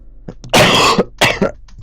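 A person coughs several times, close and loud, in a ragged cluster of short and longer harsh bursts mixed with throat clearing.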